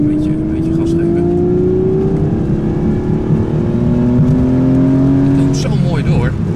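An Aston Martin V12 Vantage S engine revs steadily up and down with a rising and falling tone, close and loud for several seconds, with no talk over it.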